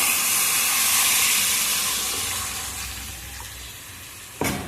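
Water poured into a hot pan of cooking young jackfruit sets off a loud, steady hiss and sizzle that slowly fades, with a brief sharp burst of sizzling near the end.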